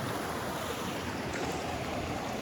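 Water flowing at Clifty Falls State Park in Madison, Indiana, heard from a seat right beside it as a steady, close, broadband rushing wash with no talking.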